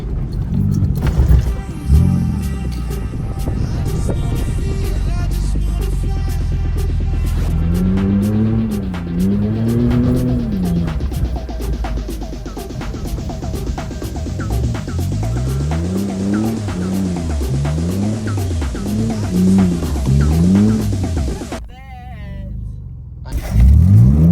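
Off-road car bought for $500 with its engine revving hard in rising and falling surges as the front wheel digs in and spins, loud and close, with a voice talking over it.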